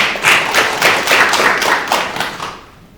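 Applause at the opening ceremony of a Korean agricultural and livestock forum welcomes the next speaker, steady clapping for about two and a half seconds before it dies away.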